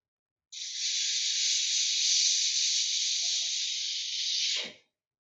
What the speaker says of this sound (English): you let your breath come out between your teeth